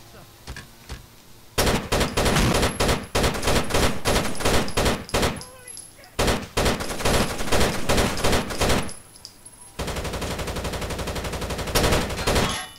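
Loud, dense bursts of rapid gunfire and automatic weapon fire from the online co-op Terrorist Hunt mode of Rainbow Six Vegas 2, rattling almost continuously with brief gaps and a steady volley near the end.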